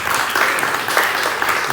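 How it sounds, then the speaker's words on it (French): An audience applauds at a digital tourism conference panel, dense, even clapping that holds at full strength throughout, close and loud with no talking over it. "On peut l'applaudir"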